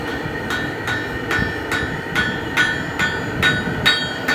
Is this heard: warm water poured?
no